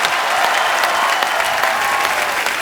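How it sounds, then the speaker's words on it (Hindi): Loud, dense applause from a TV studio audience on a comedy talk show, a continuous roar of many hands clapping close up with a little crowd noise and no talking. "एक बार यूवी बाजी के लिए जोरदार तालियां हो जाए।"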